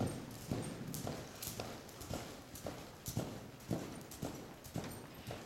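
Horse hooves in a steady loping rhythm, a soft repeated three-beat clip-clop on the ground at moderate distance, fairly faint and continuous without talk.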